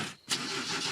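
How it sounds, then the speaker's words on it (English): A cartoon fairy car's engine tries to start on a cold day, a brief, bright whirring crank that rises after a short silence and sputters on without catching. "I will now start the engine."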